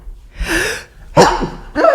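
Three sharp sneezes, each opening with a short intake of breath, come close and loud in quick succession with brief pauses between them.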